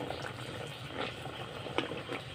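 Batter of malpua made with palm fruit deep-frying in hot oil, a steady close bubbling sizzle with a few sharper pops, no voices.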